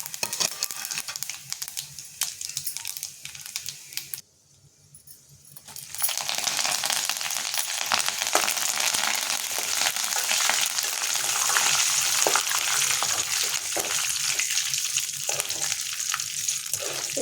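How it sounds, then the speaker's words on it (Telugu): Half a spoon each of cumin and mustard seeds hit hot ghee for tempering and burst into loud, crackling sizzling after a brief quieter moment. The popping and frying stay close and continuous through the rest of the clip. "ఒక 1/2 చెంచా జీలకర్ర, ఒక 1/2 చెంచా ఆవాలు. నెయ్యి కాగింది, తాలింపు చేసుకుందాం."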